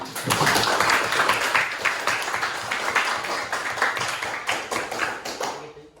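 A class of children claps for several seconds for a classmate's answer, a dense rolling patter of many hands that fades out at the end.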